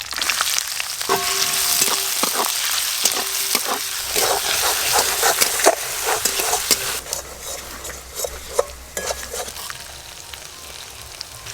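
Chopped onion fries in mustard oil in a home kitchen, a steady loud sizzle with scattered crackles and a few spoon scrapes and clinks, no talking.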